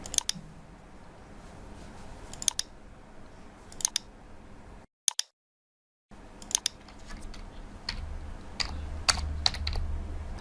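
A computer keyboard is typed on in short bursts of clicking keystrokes with pauses between them, close and crisp, with a brief silent gap partway through.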